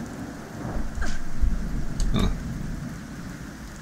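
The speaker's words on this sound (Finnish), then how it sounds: "Just on sateessa." Rain falls steadily in the video game Fallout 4, a constant hiss with a couple of low rumbles of thunder rising briefly in the middle.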